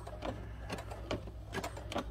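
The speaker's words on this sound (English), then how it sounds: "You just hold your bowl up like this and continue your zigzag stitch." Sewing machine running a zigzag stitch through a fabric-covered rope bowl, a steady mechanical whir with regular needle thumps about every half second, fairly quiet and alone.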